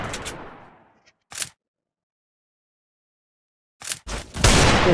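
Gunfire in a shooting video game, a few sharp separate shot bursts with silent gaps between, then a quick cluster of shots near the end, loud and close.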